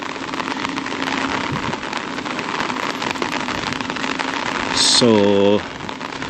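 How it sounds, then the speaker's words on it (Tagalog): Steady rain falls at an outdoor stockyard of bank-repossessed cars, a constant hiss throughout, with a short spoken word and a brief horn-like tone near the end. "inabutan tayo ng ulan eh"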